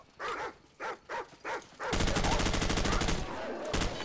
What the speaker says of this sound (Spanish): Oh, oh, cuidado con el perro.